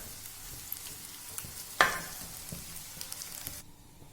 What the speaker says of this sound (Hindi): इसी चम्मच की मदद से आपने इसको अच्छे से फ्राई करना है ताकि एग के अंदर जो कच्चापन है वो खत्म हो जाए